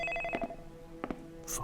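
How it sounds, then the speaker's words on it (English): A telephone in a horror video game rings in repeated bell-like bursts, two close pairs of rings over under two seconds, fairly clear and unaccompanied by talk. "Phone."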